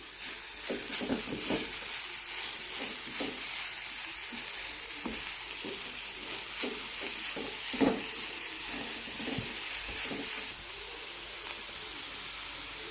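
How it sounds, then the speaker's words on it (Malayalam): Beetroot stir-fry sizzles steadily in a pan as turmeric is stirred in, with a continuous soft hiss and repeated scraping and stirring clicks up close. "ഇനി ഒരു കാ ടീസ്പൂൺ മഞ്ഞൾപ്പൊടിയും കൂടി ഇട്ട് കൊടുക്കാം നന്നായിട്ട് ഇളക്കി കൊടുക്കാം"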